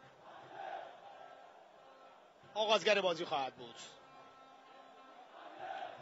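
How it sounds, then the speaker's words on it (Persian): Damash football supporters in a stadium chant and cheer as a distant, diffuse crowd roar, mostly beneath a commentator's voice that briefly rises loudly over it. "داماش تیم خودشون رو تشویق میکنن"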